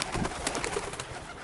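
Pigeons on a farm give a few close, throaty coos over a busy, slightly noisy background, with soft chirps mixed in.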